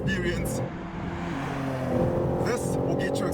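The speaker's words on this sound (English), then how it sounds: "So if I gun it, and it shifts, so it literally shunts my head to the back" A 2025 BMW M3 Touring with a 3-liter inline-six accelerates hard inside the cabin, engine rising and then briefly breaking at a quick gear shift before pulling again, while someone talks over it.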